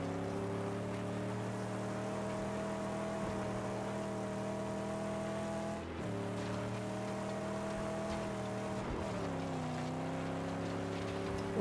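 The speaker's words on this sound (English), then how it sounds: "Sounds like it's got a good engine." A car engine idles and hums steadily in the Mad Max video game, with a low harmonic drone that dips slightly in pitch a couple of times, fairly quiet and with no talk over it.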